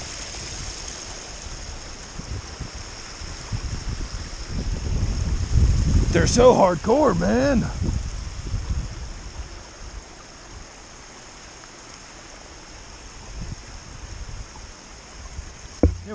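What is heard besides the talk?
stream water flowing on the Appalachian Trail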